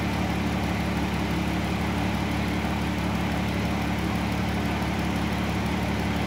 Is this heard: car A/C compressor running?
yes